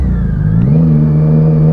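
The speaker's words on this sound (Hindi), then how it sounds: "रेव मैचिंग का मज़ा ही अलग है अपना" A superbike engine revs steadily during rev matching on a mountain road in Ladakh, a loud, close, continuous drone that climbs slightly in pitch and holds, with no talking.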